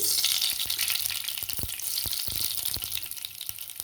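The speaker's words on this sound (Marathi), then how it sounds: "आता तेल तापलेलं आहे, तेल घालून घेतलं होतं त्याच्यात. आता त्याच्यात टाकू आपण मोहरी" Mustard seeds drop into hot oil in a kadhai, setting off a loud, close hiss of sizzling with a burst of sharp popping crackles in the middle and no talk.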